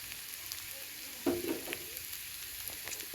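Ground black pepper and coriander powder fry in onion oil in a pan for egg kurma, a faint steady sizzle with a brief clatter of stirring in the middle, quiet and close with no talking.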